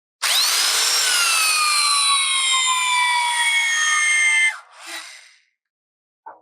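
Close, loud whine of a power tool set to 120 tightening a structural bolt, a steady high-pitched drone with slowly falling tones for about four seconds, then a short rattle and a brief faint click.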